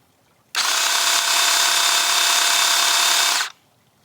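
Ryobi 18 volt cordless chainsaw switched on and held at full speed, a loud, steady high-pitched electric whine that starts abruptly, runs for about three seconds and cuts off cleanly, with no ramp-up.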